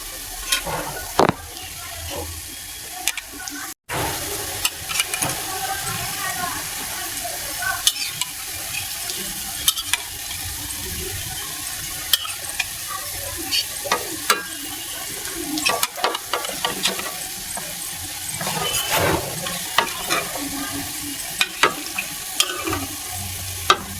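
A pot of hilsa fish curry with green banana cooks on the stove, giving a steady sizzle and bubbling broken by repeated stirring clatters and occasional utensil knocks.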